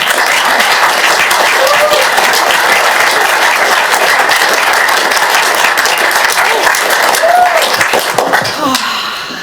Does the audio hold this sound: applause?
yes